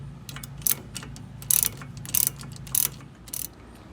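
A hand ratchet clicks in short, uneven bursts while loosening a 10 mm bolt on the ABS bracket of a 2012 Dodge Grand Caravan during a strut replacement, each burst of sharp ticks close and separated by pauses.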